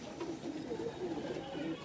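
Punjabi Malwai pigeons, including a grey one, coo in a breeding setup: a steady run of soft, rolling coos repeats close by for the whole moment, with no talking over them.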